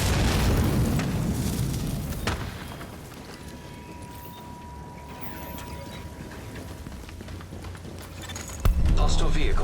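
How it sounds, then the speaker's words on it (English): A hostile vehicle explodes in The Division video game: a loud booming blast at the start that decays into rumbling debris and gunfire, then a second sharp burst near the end, with game voices talking over the din. "Hostile vehicle destroyed."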